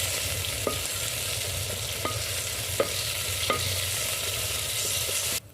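Onions frying with whole garam masala spices, cloves, cardamom and cinnamon, for handi chicken, a constant close sizzle broken by a few soft clicks of stirring, no talking.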